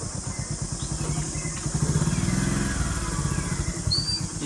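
A motorcycle engine putters nearby with a steady, rapid thumping idle that swells slightly midway, running continuously throughout.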